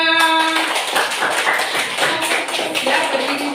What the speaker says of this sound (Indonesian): Tepuk tangan dulu buat teman-temannya.